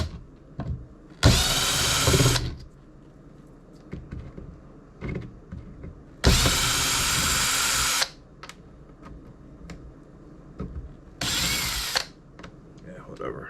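Power tool unscrewing parts from the underside of an old record player, with three loud whirring bursts of a couple of seconds each, separated by small handling clicks and knocks.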